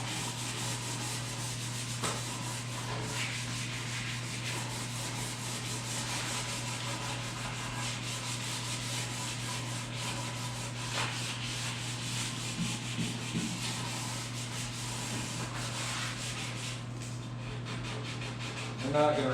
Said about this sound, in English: They're not going to require a lot of sanding, but they definitely need sanded.